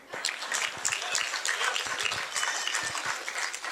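An audience applauding after a Hindi stage play, a dense patter of many hands clapping steadily throughout, fairly close and lively.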